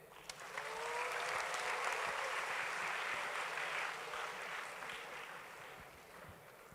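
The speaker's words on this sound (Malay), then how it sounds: "Bagi tepukan sikit." A university orientation audience at a religious talk gives a round of applause after a question session, a steady, fairly distant wash of clapping that rises quickly, holds, and tapers off near the end.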